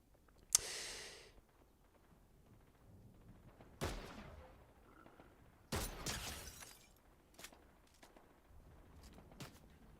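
Video game gunfire comes in a few sharp isolated bursts, one early crack followed by heavier blasts and scattered smaller pops, fairly loud against a quiet background.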